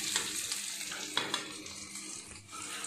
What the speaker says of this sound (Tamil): ஆனியன் வதங்கினதையும் வாழைப்பூ போட்டு வதக்கணும்.